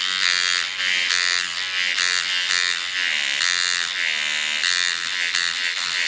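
An Azts Firefly coil tattoo machine runs with a stroke of about 3 to 3.5 millimeters, giving a loud, steady electric buzz, rich and harmonic, held continuously at close range with slight wavering in pitch.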